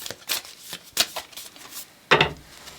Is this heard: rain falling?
no